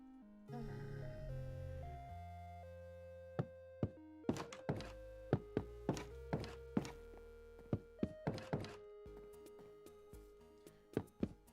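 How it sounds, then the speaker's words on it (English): Cherry wood blocks being placed in Minecraft, a series of hollow wooden thunks in an irregular rhythm over soft background music, with no talk. "Cherrywood having different sounds to wood blocks really messes with my brain sometimes"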